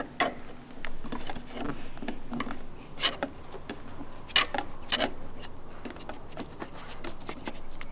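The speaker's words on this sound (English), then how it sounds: "from here we're going to use our trim tool to tuck it in." Plastic trim tool pressing and tucking trim strip between a Jeep JL Wrangler fender and body, with close, irregular scraping rubs and small sharp ticks, no talking.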